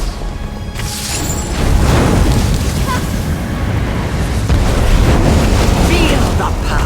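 A fire spell blast in Elder Scrolls Online roars loud and continuous, a dense rumbling whoosh of flames that swells after the first second and sustains throughout.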